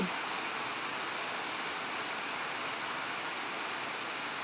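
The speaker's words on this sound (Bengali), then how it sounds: "top top top top top top top top বৃষ্টি পড়তেই আছে একদম ঝাড় বৃষ্টি" Morning rain falls steadily, a soft, even wash of hiss that holds at the same faint level throughout, with no distinct drops or voices standing out.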